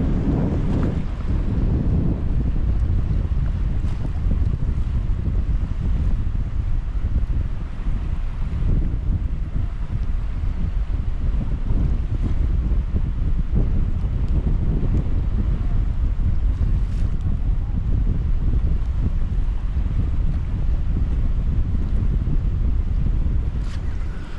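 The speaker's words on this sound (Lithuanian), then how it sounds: "žiauriai didelis vėjas" Strong wind buffets the microphone beside the water at dawn in rainy weather, a loud continuous roar with gusting rumble and a faint wash of waves underneath, with no voices.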